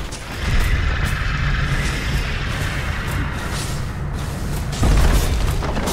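A tower collapsing in Dota 2 during a TI13 match: a deep, sustained rumbling boom with low crashing debris, steady and loud throughout, swelling into a heavier thud near the end, with no speech over it.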